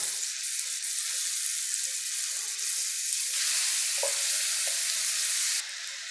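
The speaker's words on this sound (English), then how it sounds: "my mushrooms are cooking down. The onions are nice and soft." Mushrooms and onions cooking down in a pan for a stuffed mushroom filling give a steady, close frying sizzle with faint stirring clicks, heard alone without talk.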